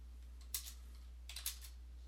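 Keys tapped on a computer keyboard while entering a command, two short clusters of quiet clicks with a pause between, close and alone over a low steady hum.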